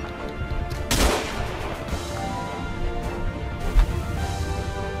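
Gunfire in the strategy game Guns Up: a loud burst of shots near the start, then scattered lighter pops and a later sharp crack over continuous battlefield rumble.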